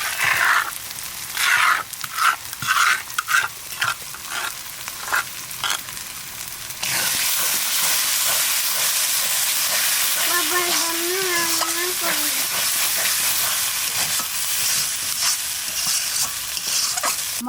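Ground spice paste goes into a hot pan with yogurt for a mixed vegetable curry. Scraping stirs and clatter come first, then a loud, steady sizzle of frying takes over and continues.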